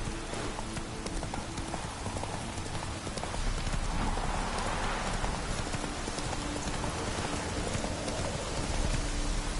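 Roach the horse trotting through rain in The Witcher 3: a steady, rapid clip-clop of hooves runs throughout, close and even, over a constant hiss of falling rain.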